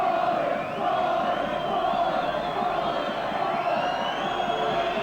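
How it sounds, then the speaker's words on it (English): Rugby league crowd at Knowsley Road, St Helens, during a 1985 match against New Zealand, jeering and chanting at a kicker lining up his shot, a broad, distant roar of many voices sustained throughout. "He really is getting the raspberry from a crowd here."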